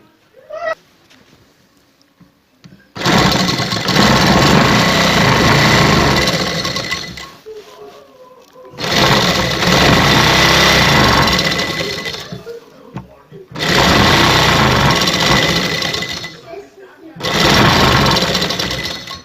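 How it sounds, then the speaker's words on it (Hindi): Four long runs of loud, close stitching come from a sewing machine sewing along the edge of a kameez hem, each several seconds long and separated by short quiet pauses. "अब इसके ऊपर हम किनारे पे रख के सिलाई लगाएंगे"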